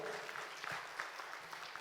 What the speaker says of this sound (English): My dear friends, give a round of applause to Mr.